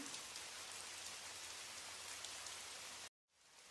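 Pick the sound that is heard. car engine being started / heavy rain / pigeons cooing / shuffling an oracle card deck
heavy rain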